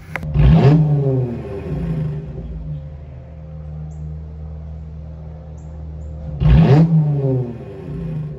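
A V6 Mopar car engine with a straight-piped exhaust revs hard twice, loud and close, each surge rising then falling back to a steady rumbling idle.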